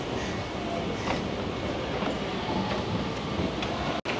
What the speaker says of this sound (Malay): lepas tu pergi naik Putra LRT, pergi ke Sentul Timur punya